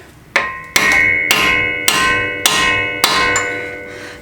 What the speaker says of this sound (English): Cold chisel. I want to get right up on it and really nail it in there.